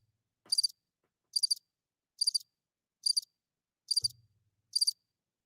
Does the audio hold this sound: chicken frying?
no